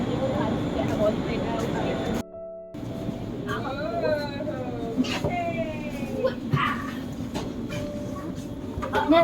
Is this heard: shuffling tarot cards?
no